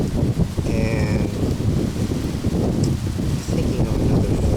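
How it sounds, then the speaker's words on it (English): Strong outdoor wind buffets the microphone, producing a dense, continuous low roar with gusty surges, and a faint bird chirp briefly rises above it. "It's very windy. I don't know if the mic will be able to pick me up"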